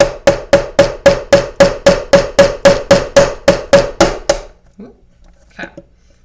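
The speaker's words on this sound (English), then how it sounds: "Okay, so I'm gonna hammer that down." A hammer driving a nail held with needle nose pliers for nail and string art, about fifteen loud, evenly spaced ringing metallic strikes in steady rhythm, then stopping, followed by a couple of faint handling clicks.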